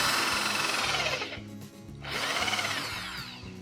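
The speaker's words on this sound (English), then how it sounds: "what we're going to do is drill into it and kind of keep an eye on it as we go." A power drill bores into a soft wooden sailboat mast, whirring in two loud sustained runs with a brief pause between them as the motor spins down and starts again.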